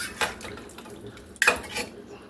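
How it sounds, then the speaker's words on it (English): Pre-cooked potatoes go into a gravy base in a pot for a chicken pot pie casserole, heard as a few quiet clinks and scrapes of a utensil against the pot with one sharper clatter midway. "to that we're going to add some potatoes."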